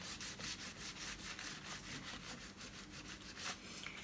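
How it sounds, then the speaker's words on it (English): A cloth rubs charcoal glaze off painted furniture in quick back-and-forth strokes, giving a soft, rhythmic scuffing close by with no voices. "You're going to remove as much of that excess as you can. Obviously you want to leave a bit, but it's almost like you're buffing wax. But just start rubbing."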